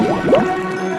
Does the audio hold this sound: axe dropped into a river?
yes